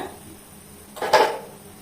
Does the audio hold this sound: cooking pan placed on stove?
yes